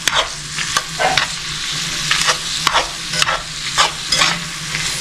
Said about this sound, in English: I'm going to saute that in.